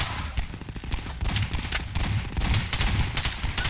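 Rapid, loud gunfire from a customizable weapon in Garry's Mod, close-up and sustained shots in quick bursts with hardly any pause.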